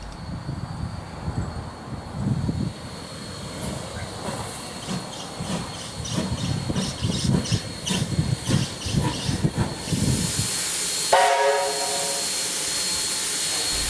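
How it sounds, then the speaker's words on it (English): A steam locomotive, NSW engine 3526, stands at Scarborough station on its way to Wollongong, giving a rumbling, chuffing sound that builds and then turns to a loud, sustained hiss of escaping steam. "But the first stop for the locomotive before heading to Wollongong is Scarborough."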